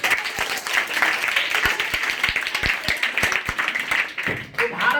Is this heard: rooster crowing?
no